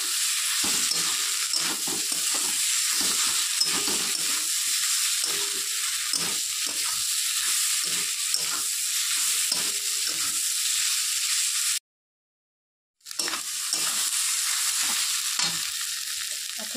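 Eggs being stirred into a spiced gravy base in a hot pan, a strong steady sizzle with scraping stir strokes, briefly cutting out before the frying hiss resumes.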